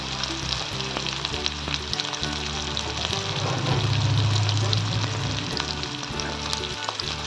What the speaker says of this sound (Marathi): यात टाकूया आपण चिरलेला कांदा,